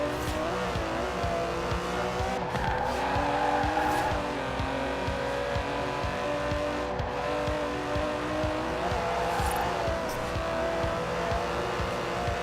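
Aston Martin DB11 with a 5.2-litre twin-turbo V12 in Forza Horizon 4, a steady loud engine drone with shifting revs and some tyre noise running throughout, no talking.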